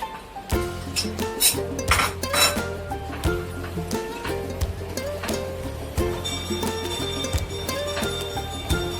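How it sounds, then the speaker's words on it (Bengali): A spoon scraping and clinking against a pan while sugar is stirred into fried lentil dumplings and greens, repeated close metallic knocks and rings, loud and uneven. "চিনিটা মিশিয়ে দিচ্ছি ভালো করে"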